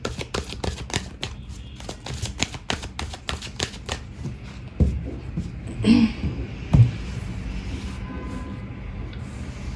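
A deck of tarot cards shuffled up close, a quick run of crisp flapping riffles for several seconds, then a few heavier taps and thumps as the deck is handled.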